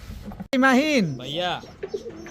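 Pigeons coo close by, a deep wavering throaty call repeating once or twice after a sharp click.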